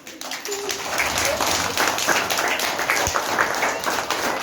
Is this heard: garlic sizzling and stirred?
no